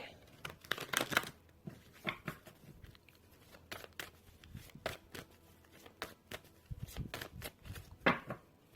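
Oracle cards are shuffled in quick riffling bursts, close and crisp, with pauses between rounds and occasional soft speech in the background.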